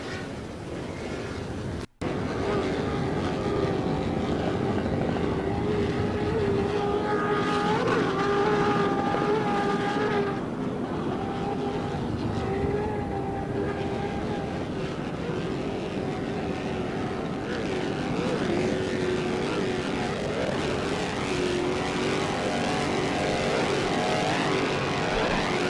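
A helicopter flies over an offshore powerboat race, its engine and rotors producing a continuous, loud, droning roar mixed with boat engine noise for the whole stretch.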